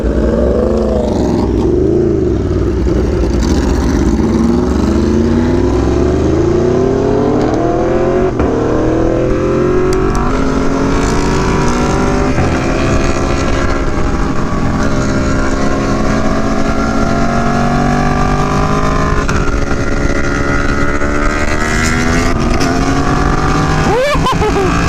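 Several sport motorcycles on a group ride, among them an Aprilia Tuono V4 Factory, a Yamaha R1, a BMW S1000RR and an M1000RR, drone steadily and loudly with shifting engine pitch and wind rush throughout.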